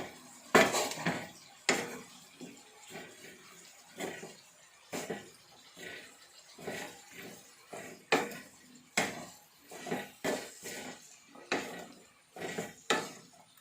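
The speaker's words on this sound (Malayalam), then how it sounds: "ഇനി ഇത് നല്ലോണം ഇളക്കട്ടെ" A utensil scrapes and knocks against a pan as green gram stir-fry with turmeric and salt is stirred, producing a steady series of sharp clinks and scrapes at close range.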